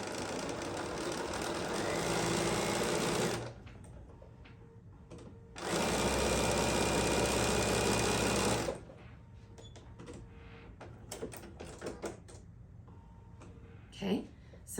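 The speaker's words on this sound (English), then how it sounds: "I'm gonna sew this one on." A sewing machine stitches a quilt block in two steady, close runs of about three seconds each, separated by a quiet pause, followed by light handling clatter and faint room noise.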